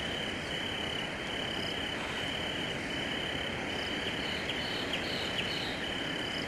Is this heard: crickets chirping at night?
yes